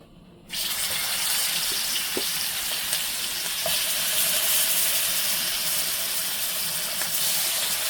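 Hilsa fish pieces rubbed with salt and turmeric drop into hot oil for a curry with ash gourd, setting off a loud, steady sizzle and crackle that runs on unbroken from the first second.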